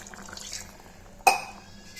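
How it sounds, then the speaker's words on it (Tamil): Water is added to a pot of goat intestine gravy, making a single short, close splash against the pot amid quiet kitchen background. "இப்போது தண்ணி சேர்த்து வேக விட்டுக்கலாம்"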